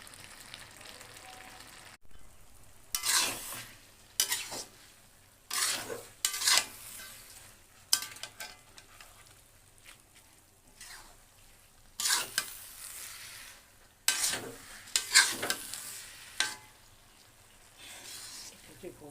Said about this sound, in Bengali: আলু ফ্রাই করতে অনেক বেশি সময় লাগে।